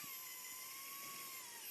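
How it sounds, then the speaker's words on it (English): A surgical power driver whines steadily as it starts a screw into a bone plate during a malunion repair, a faint, continuous high-pitched motor tone running with no talk. "So we're going to go ahead and start the screw."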